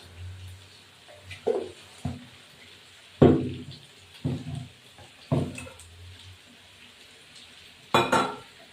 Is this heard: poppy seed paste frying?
yes